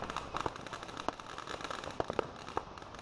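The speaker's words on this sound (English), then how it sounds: "Those are cool fireworks, though." Fireworks and firecrackers going off, a stream of sharp irregular pops and crackles at moderate distance, scattered across a few seconds with no talking.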